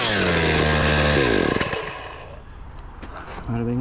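A power saw cuts a wooden board for a homemade tree stand: a loud, close whining cut for about a second and a half, then a brief wind-down, and the motor spins up again near the end.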